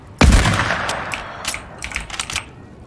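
Fortnite gameplay gunfire: one loud sharp shot opens, then a string of quicker, quieter bursts, with no talking over it.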